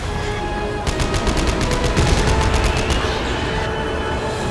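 Rapid automatic gunfire from the video game Dead Space 3, a sustained loud burst of evenly spaced shots over a dense, noisy game soundscape, with no talking.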